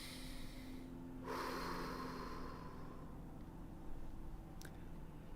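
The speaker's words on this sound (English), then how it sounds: "You know you're breathing like this." One person demonstrates a forceful breathing exercise, a single sharp, hissing exhalation through the nose held for about a second, faint and close against quiet room noise.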